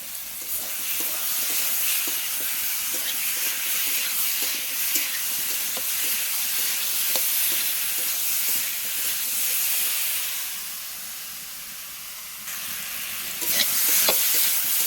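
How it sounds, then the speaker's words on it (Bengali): Fried potato and tomato sautéing in spice masala for a potato-fish curry, a loud continuous sizzle and hiss with scraping stir strokes throughout, easing slightly near the end before flaring again. "এবার আমি আলুটা দিয়ে দেবো ভাজা আলুটা আর টমেটোটা দিয়ে ওর সঙ্গে কষিয়ে নেবো"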